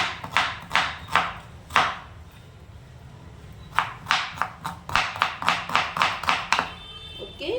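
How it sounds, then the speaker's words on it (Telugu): A knife chopping onion finely on a cutting board, sharp close taps in quick bursts, a few strokes, a pause, then a faster run of steady cuts. "ఫస్ట్ ఉల్లిపాయను వచ్చి సన్నగా పొడిగ్గా కట్ చేసుకోవాలి"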